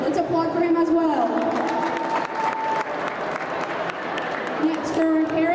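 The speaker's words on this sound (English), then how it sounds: "let's applaud for him as well" Crowd applause at a high school swim senior night meet in Shawnee, Oklahoma, continuous clapping with some cheering and a voice speaking over it.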